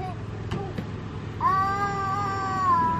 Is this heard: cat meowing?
yes